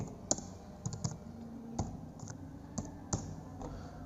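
Typing on a computer keyboard while entering a name into an Excel spreadsheet: sharp, irregular key clicks in a loose sequence, a few louder taps standing out over a quiet room, with no talking.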